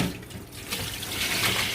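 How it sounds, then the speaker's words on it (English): Tap water runs over garden-grown kale in a strainer at a sink, a brief steady splashing rush heard up close. "Rinse it one more time."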